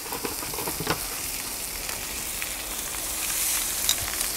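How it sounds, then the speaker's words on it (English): Ribeye steaks brushed with olive oil sear on a soapstone slab inside a Kamado Joe grill at around 600 degrees, giving a constant loud crackling sizzle with small pops, no talking. "and now we're just going to hopefully get a nice sear."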